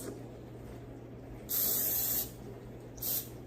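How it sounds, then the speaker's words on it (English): Cooking spray from an aerosol can misted onto a baking pan in a home kitchen: two short, close hissing bursts, the first longer than the second, over a quiet room hum. "Give it a little spray."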